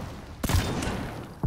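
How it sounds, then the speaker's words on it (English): A tank's big primary cannon fires in a video game, two sharp booming blasts about a second apart, each followed by a rumbling tail. "shoot with a big primary cannon"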